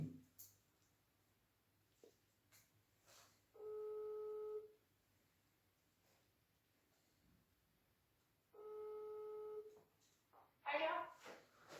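A phone ringback tone sounds twice during an outgoing call, each long steady tone separated by a few seconds of quiet line hiss, with faint clicks and a brief sound at the end.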